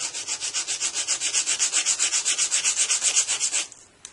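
Sandpaper rubs a small model jetway piece in fast, even back-and-forth strokes, about eight per second, close and loud, stopping abruptly near the end with a faint tap.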